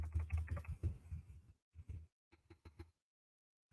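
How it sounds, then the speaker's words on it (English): Keys on a computer keyboard clatter in quick bursts, faint and close, with short pauses between runs of typing. "I hope you guys can hear my keyboard."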